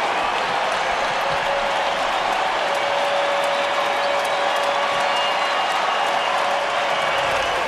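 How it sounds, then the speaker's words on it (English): Baseball stadium crowd cheering and applauding after a home run in an Athletics versus Orioles game, a steady dense roar of distant voices and clapping that holds throughout. "The crowd is celebrating."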